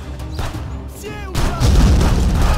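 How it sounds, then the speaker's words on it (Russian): A grenade goes off in the game Contraband Police, a heavy booming blast that swells about midway and rolls on as a loud, broad rumble, with a shouted voice just before it. "Граната!"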